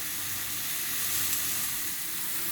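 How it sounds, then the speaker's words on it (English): Cauliflower steaks sizzle steadily in a pan as they caramelize on the bottom, a close, loud, continuous hiss with no talk. "ensuring that it caramelizes at the bottom, and our cauliflower steaks cook"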